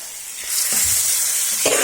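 Mango pieces dropped into hot oil in a pan for a quick mango pickle, a steady close sizzling hiss that swells after a short quiet start, with a few soft stirring knocks, no talking.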